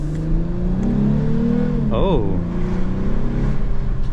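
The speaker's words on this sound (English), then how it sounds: "You got a little like active exhaust there." A 2023 Lexus IS 350 F Sport engine drones steadily, then a quick rev spikes and falls with a crackling active-exhaust note, and a voice briefly exclaims over it.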